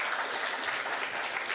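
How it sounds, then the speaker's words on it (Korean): Applause from a church congregation at a women's mission society worship service, a dense continuous wash of clapping, close and steady throughout the brief moment. "박수 한번 주세요"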